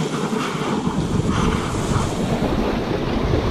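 Strong wind roars across open sea near Talim Island while waves wash and churn close by, a continuous heavy rushing noise with no voices.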